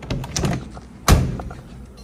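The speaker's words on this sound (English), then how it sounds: "Door closed." A car door shuts with a single solid thunk after some light rustling and handling noises, close and fairly loud, then quiet.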